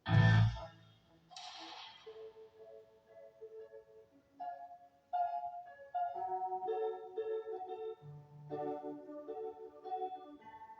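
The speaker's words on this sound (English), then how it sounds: "it sounds like an old honky tonk or an old saloon piano." Jaunty, slightly out-of-tune honky-tonk piano plays a bouncy saloon tune with a heavy low thump at the start, steady and fairly loud, no voices.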